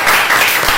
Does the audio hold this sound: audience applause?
yes